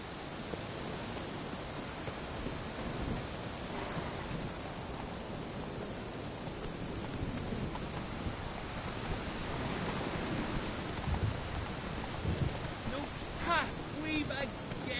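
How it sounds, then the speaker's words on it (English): A storm in The Witcher 3 brings a steady wash of heavy rain with a deep rumble of thunder building underneath, continuous and enveloping, while a few faint tonal game sounds appear near the end. "A storm, damn it."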